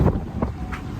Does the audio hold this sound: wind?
yes